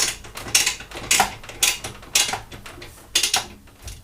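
A ratchet tool tightens the bolts on Wunderlich tank protectors fitted to a BMW F 750 GS motorcycle, giving repeated close, rasping clicking bursts in an uneven rhythm with no speech.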